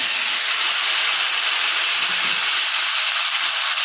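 Cauliflower and potatoes fry together in hot oil in a wok, producing a dense, loud, even hiss that runs unbroken and close throughout.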